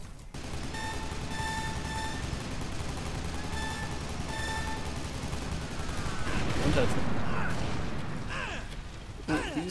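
Gunfire in the online shooter game Loadout, bursts of rapid shots and mechanical clatter over a dense, loud game soundscape, with a heavier rumbling stretch toward the end.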